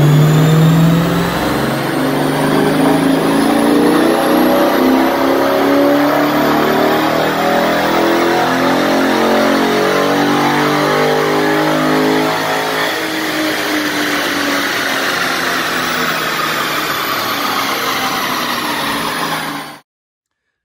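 A stock Hemi-powered car revs hard on a chassis dyno during a baseline pull: one loud, continuous engine roar that climbs steadily in pitch for about twenty seconds, then cuts off abruptly.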